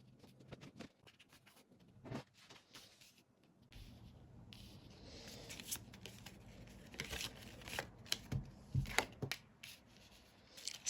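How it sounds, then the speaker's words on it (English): Tarot cards are handled and laid down on a surface, making soft shuffling, sliding and light tapping sounds that come in scattered, quiet bursts over about eleven seconds. "Let me put these cards there so we have more space."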